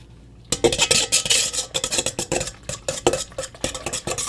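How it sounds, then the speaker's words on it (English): A whisk beats whipped body butter in a bowl, giving rapid, steady scraping and clicking strokes, close and fairly loud, with no talk. "Let's grab a whisk."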